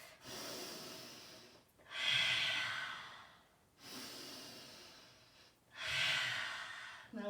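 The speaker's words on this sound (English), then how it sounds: "Exhale, inhale, exhale, inhale, exhale, and breathe." Slow, deep yoga breathing close to the ear: long airy inhales alternating with fuller, rushing exhales, two full cycles at a steady, unhurried rhythm with no talking.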